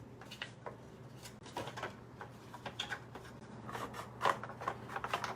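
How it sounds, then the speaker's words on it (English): Card paper folded by hand along a score line while making a tricorn card, heard as a series of soft, close crinkling and creasing rustles with small sharp clicks, steady through the clip with no talking. "I'm just folding on that score line."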